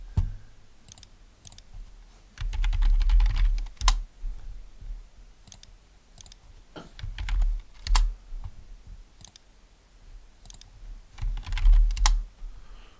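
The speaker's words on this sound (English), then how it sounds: "this time I'm going to type each word separately" Computer keyboard typed on by hand, close and crisp, in short clusters of keystrokes with pauses between separate words, each group a quick patter of clicks and thumps.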